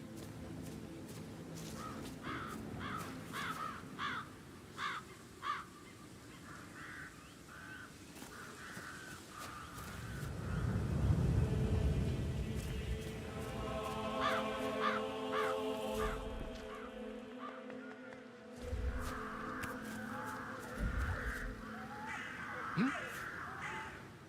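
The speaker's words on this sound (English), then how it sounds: "I'll never get rid of those stupid birds." Crows caw repeatedly in the Hitman 3 video game, harsh calls sounding in bursts at moderate distance against a low ambient bed, with a rumbling swell midway and a few game sounds.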